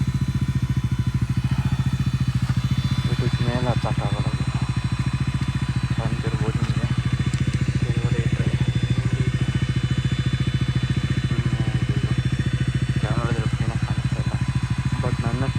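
Several motorcycles rev and labor up a steep rocky road on a ride to Agumbe, a loud continuous engine drone with throttle surges, while people talk over it intermittently.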